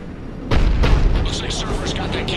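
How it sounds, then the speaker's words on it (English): In the Mass Effect video game, a Cerberus cannon fires a heavy booming blast that starts suddenly and rumbles on, loud and close, with some chatter and game sounds mixed in. "Looks like Cerberus got that cannon operational"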